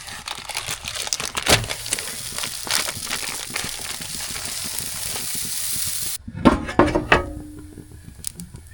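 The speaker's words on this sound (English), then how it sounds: "We're going to go ahead and throw this down on the grill." Pita bread crackling and sizzling on an outdoor grill, a steady broadband hiss with crinkly bursts, then a sharper clatter as it settles on the grates.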